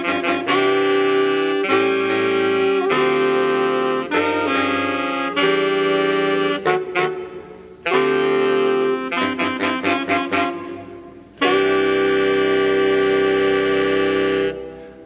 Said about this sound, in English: Now here is the entire Reed section at the same part.